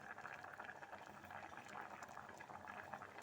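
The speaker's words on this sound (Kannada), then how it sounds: "ಫ್ರೆಂಡ್ಸ್ ನೋಡಿ, ಈಗ ಕುದೀತಾ ಇದೆ." Snake gourd kootu, a South Indian curry, boiling in a pot: a faint, continuous bubbling and gurgling that stays steady throughout with no voices.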